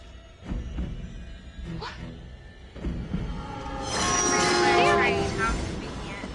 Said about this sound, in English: Train, how convenient.